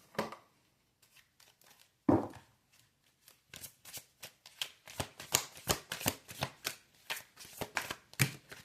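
Oracle cards are shuffled by hand in a run of quick, close riffling bursts, preceded by a few soft handling taps and one sharper slap, with no talk.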